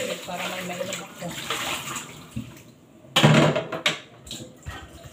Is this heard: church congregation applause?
no